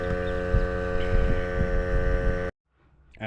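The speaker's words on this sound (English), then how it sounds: "Air compressor just kicked on." A running air compressor near a framing nailer job: a loud, steady, close mechanical hum with a throbbing pulse, which stops abruptly after about two and a half seconds before a faint sound returns.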